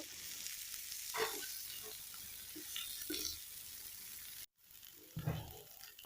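Vegetables fry in mustard oil in a pan, giving a steady, fairly quiet sizzle with intermittent stirring scrapes, a brief cut and then louder spatula knocks at the end.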